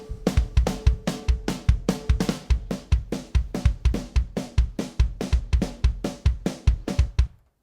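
Drum mix of kick drum and layered snare samples, drawn from a separated live concert track, playing a fast, steady groove of punchy low thumps and bright cracks for several seconds before stopping abruptly.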